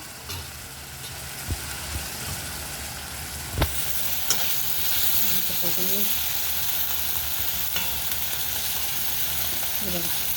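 Tomatoes fry in oil in a pan with a steady close sizzle, punctuated by a few sharp clicks and scrapes of a spoon stirring, with faint brief voice fragments in the background.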